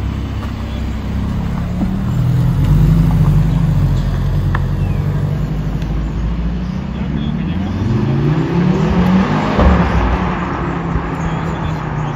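A new Mercedes C63 S AMG accelerates, its engine note rising in two long sweeps under constant road rumble, loud and close, with a voice talking over it.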